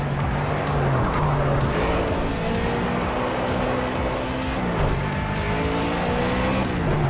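Race car engines in the Project Cars video game drone loudly and continuously. Tyre squeal and skidding run along under the engine note, which keeps rising and dropping as the cars shift gears.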